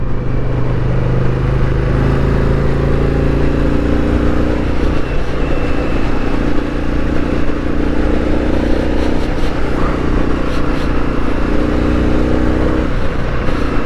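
A car engine with a suspected fault idles and rumbles steadily at close range, a continuous low drone with slight wavering throughout and no speech.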